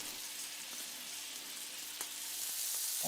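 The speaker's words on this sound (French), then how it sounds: "Et je vais les faire colorer dans une poêle avec du beurre." Rounds of white boudin from Rethel browning in butter in a frying pan, a steady close sizzle with a few light clicks of stirring or a utensil, no talking.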